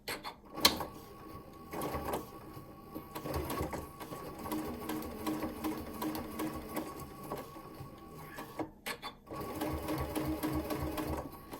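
A sewing machine stitching binding around a round mug rug runs in quick bursts of rapid mechanical needle clatter, close and fairly quiet, stopping and restarting several times with faint talking underneath.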